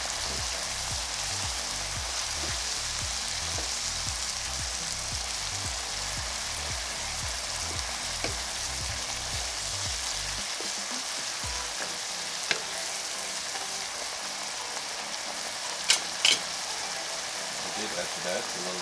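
Peppers and onions sizzle and fry steadily in a pan for Jamaican escovitch fish, a dense continuous crackle with a few stirring clatters and sharper pops near the end.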